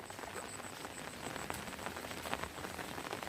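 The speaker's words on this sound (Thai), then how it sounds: "ฝนตกได้บรรยากาศนอนเบน" Heavy rain pours down in a steady, dense hiss with no letup, a broad wash of drops close by and alone, with no talking.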